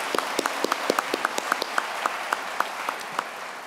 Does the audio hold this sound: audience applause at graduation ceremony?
yes